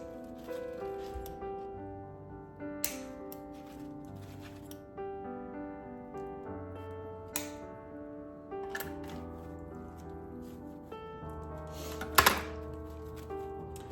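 Scissors snip through artificial flower stems for a Christmas floral arrangement, a few sharp, separate cuts spaced over a quiet background, with one louder cluster of snips near the end.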